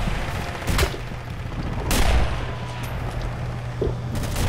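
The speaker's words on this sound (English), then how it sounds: "Semi-auto rifle." Semi-automatic rifle shots in the World War II shooter Red Orchestra, a few sharp cracks spaced apart over a steady low rumble of battle, with no voices.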